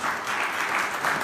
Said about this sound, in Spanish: Un aplauso para Roberto.